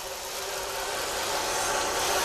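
Engine sound from a Clark TK-22 sound unit in an RC tank, a steady droning motor with a gritty, rattling texture that holds at a constant speed and grows slightly louder over the short stretch, with no talking.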